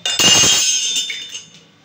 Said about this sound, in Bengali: এর মধ্যে একটা ডিম আমি ফাটিয়ে দেবো।